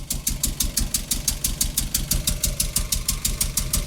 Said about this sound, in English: Still sounds it's got an air leak, but we got running.